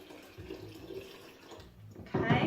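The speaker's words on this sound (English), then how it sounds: "So I'm going to pour tap water into this one." Tap water poured into a container, a soft running trickle that swells into a louder, brighter splash near the end, close by.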